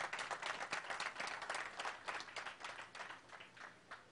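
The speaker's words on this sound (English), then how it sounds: "So big applause for him." A crowd at a public event applauds the world chess champion, with continuous, fairly distant clapping that is strongest at first and slowly thins and fades over about four seconds.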